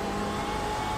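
A BMW M8 race car's engine revs hard under full acceleration around Circuit Zolder, a steady, loud mid-pitched drone for about a second with no talk.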